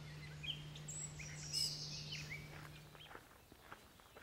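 Several bird calls and chirps of varied pitch from a gray bird mimicking other species, over a low steady hum and soft footsteps outdoors at a wetland wildlife refuge.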